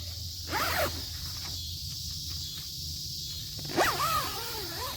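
The door of an REI Co-op Half Dome SL 2+ tent is zipped shut with two quick, close rasping zip strokes, separated by a pause of quiet fabric handling.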